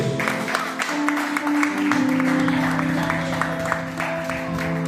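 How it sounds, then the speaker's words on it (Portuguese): Clapping from a church congregation fills the space, dense and lively, with an organ-like tone and voices mixed in. "aplauda o Senhor Jesus"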